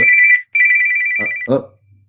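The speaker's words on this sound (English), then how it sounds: "Is your phone ringing?" A phone rings with two long electronic tones separated by a short pause, followed by brief bits of a voice close by.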